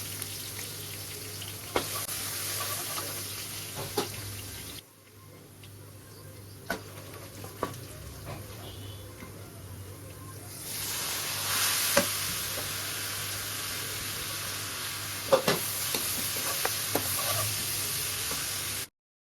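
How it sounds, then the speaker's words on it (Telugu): Curry leaves, crushed garlic and turmeric frying in hot oil in a pan, giving a continuous close sizzle with occasional taps and scrapes of stirring, briefly quieter before swelling louder again, no voices. "కరివేపాకు కూడా కొంచెం ఫ్రై అయిన తర్వాత మనం ఇందులో దంచుకున్న వెల్లుల్లిని యాడ్ చేసి కొంచెం పసుపుని యాడ్ చేసుకొని కొంచెం ఫ్రై అవ్వనివ్వాలి"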